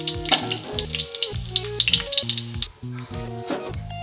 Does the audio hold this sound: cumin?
yes